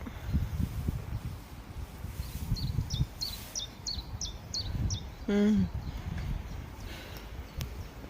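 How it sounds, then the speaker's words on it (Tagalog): Small birds chirp in short repeated bursts by a river in Sluis, Netherlands, a quick series of high notes, then a brief louder call, over steady outdoor rumble and footsteps. "pakinggan niyo yung huni ng mga ibon."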